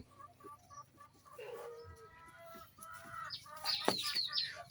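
A hen clucks repeatedly up close in short, throaty bursts, with other birds calling faintly in the background.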